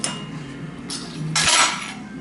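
Metal knife or utensil scraping and clinking against a Dutch oven while pie crust is trimmed for an apple cobbler, a steady close scrape ending in a louder clattering rub.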